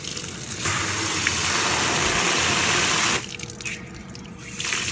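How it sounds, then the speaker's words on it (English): Water pours onto dry soil in a potato tower, a steady gushing splash running for about two and a half seconds, then easing to a softer trickle before surging again near the end; no talking. "I'm gonna water this in real good because the soil is definitely dry."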